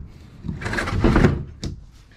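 A wooden dresser drawer in an old stored piece of furniture slides with a scraping rumble and ends in a short knock, close and fairly loud with no voices.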